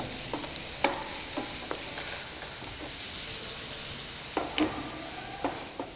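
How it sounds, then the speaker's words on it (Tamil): Chopped onion sautés in a pan with a steady, close hiss of frying, broken by scattered scrapes and taps of stirring, no voices present. "வெங்காயம் வந்து ஒரு பொன் முருளை வர அளவுக்கு இதை நல்லா வதக்குங்க"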